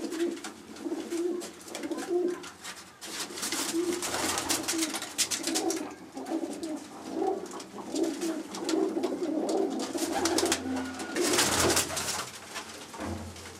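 Pigeons of the Cheetah breed coo steadily in a loft, several birds overlapping in a low rolling murmur that carries on without pause, at moderate loudness with no talk.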